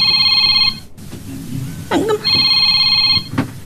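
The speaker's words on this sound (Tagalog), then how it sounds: "At da umawawag iti cellphone ko." A cellphone rings in a dramatic scene, two loud electronic ring bursts separated by a short gap, with faint rain-like noise and brief sounds in between.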